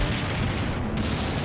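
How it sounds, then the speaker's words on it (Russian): Rumbling explosions echo across a small map in Garry's Mod, a dense, continuous low boom and crackle with no clear separation between blasts, fairly loud throughout. "Откуда эти взрывы?"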